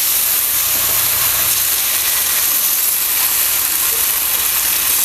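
A loud, steady hiss of rice-flour ghavan batter sizzling on a hot griddle, continuous and close, with no talking.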